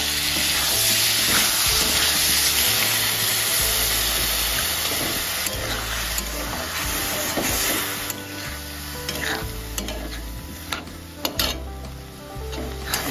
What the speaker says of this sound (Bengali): এখানে দিয়ে দেবো আদা রসুনের পেস্ট 2 চামচ, দিয়ে ভালো করে নাড়িয়ে